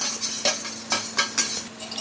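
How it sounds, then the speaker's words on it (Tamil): Small fenugreek seeds rattle and scrape in a dry metal pan as they roast, stirred in quick repeated strokes with a soft background hum. "அந்த வெந்தயத்தை வெறும் சட்டியில் போட்டு இப்படி வறுத்துக்கணும்"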